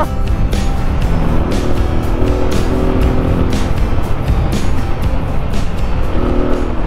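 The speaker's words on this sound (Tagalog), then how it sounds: "Grabe, lalakas ng mga motor nila." Loud motorcycles rush past close by on the road during a ride, with continuous engine roar and repeated sharp pulses as bikes go by, no speech heard.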